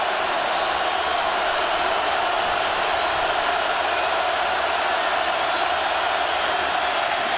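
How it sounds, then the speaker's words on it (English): A massive stadium crowd roars continuously at an Oklahoma at Nebraska college football game, a dense, loud, steady wash of cheering without a break. "Crowd coming to life"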